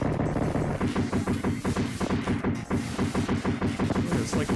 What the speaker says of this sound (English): Spread shot and the grenade explosions.